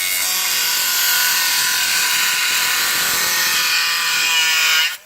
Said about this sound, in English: Basically using pencil mark as an outline, I Dremel out the ear cap.